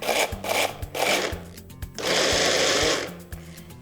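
Mini food processor chopping raisins soaked in dark rum, short bursts of pulsing whirring, a sustained buzz near the end, close and fairly loud with no talking.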